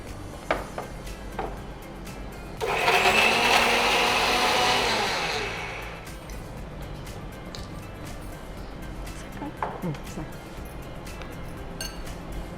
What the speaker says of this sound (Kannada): ಇದನ್ನು ಸ್ವಲ್ಪ ಹುಡಿ ಮಾಡ್ಕೊಳ್ಳೋ ಬ್ರೆಡ್ ಮಿಕ್ಸಿಗೆ ಹಾಕೋದಾ?